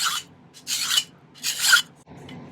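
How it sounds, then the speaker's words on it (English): A hand file rasps across a copper bangle in three short, separate strokes. The scraping is close and dry, with pauses between strokes and no voices. "So let's take this file and work on filing this a little bit."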